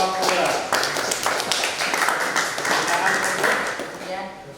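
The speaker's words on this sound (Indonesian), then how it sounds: "Tepuk tangan untuk kelompok 2." A classroom group claps for a student team after their presentation, with several seconds of uneven, sharp handclaps alongside a voice speaking.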